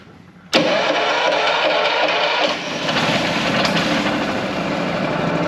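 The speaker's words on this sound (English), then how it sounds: "let's fire that engine up and run it slowly" An engine cranks and catches abruptly, then settles into a steady, slow-running drone with a brief dip in level partway through, loud and close with no talking.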